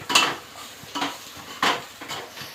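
Chicken being stirred and sautéed with black masala in a pan, a utensil scraping and clinking against the metal in four distinct strokes, with a faint sizzle beneath.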